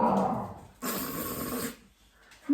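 A dog gives a low, rumbling growl indoors at a house, a close grumbling burst of about a second, with quieter breathy sounds before and after.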